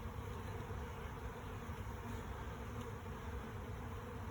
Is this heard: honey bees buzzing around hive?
yes